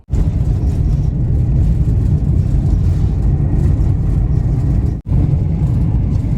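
Van driving along a road in Big Bend National Park, a loud steady engine and road rumble heard from inside, continuous with one brief dropout near the end.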